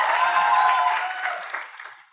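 Audience applause at a panel talk: a burst of many hands clapping, strongest at the start and tapering away over about two seconds.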